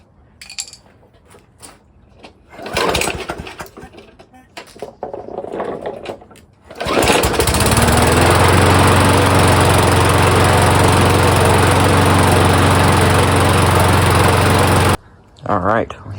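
A small yard machine engine with fuel poured into the carburetor cranks and sputters in rough bursts, then catches and runs loud and steady at a fast idle for several seconds before it briefly cuts out and restarts.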